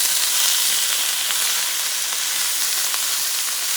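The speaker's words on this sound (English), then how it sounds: "you're going to add your shrimp" Shrimp sizzling loudly in hot oil as they go into a pan of frying rice, a steady close, bright crackling hiss with scattered pops and no talk.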